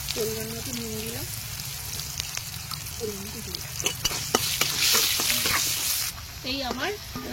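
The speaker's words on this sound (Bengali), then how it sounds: "মূলোগুলো ভেজে নেবো, মূলো আর আমি লাল আলু একসঙ্গে ভেজে নেবো" Radish and red potatoes frying together in oil give off a steady sizzle and crackle, with occasional stirring clinks and a voice talking over it in bursts.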